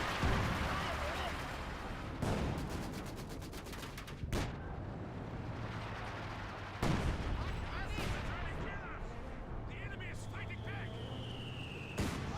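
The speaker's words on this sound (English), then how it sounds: "Vickers firing away." A Vickers machine gun fires in the Company of Heroes 2 strategy game, heard as rapid bursts and sharp gunfire cracks amid battle explosions, with a commentator talking over the action.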